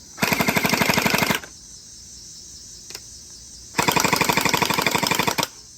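X-Shot HPG-700 gel blaster on high mode, fired in two loud rapid-fire bursts about a second and a half each, a fast mechanical rattle with a quiet gap between them.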